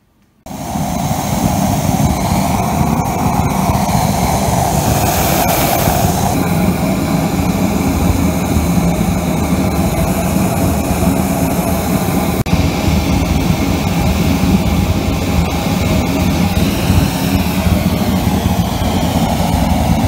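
Forge burner driven by a 6.5 horsepower air blower, firing into a small combustion chamber: a loud, steady, broadband roar that holds constant for about twenty seconds after a sudden start, with no voices.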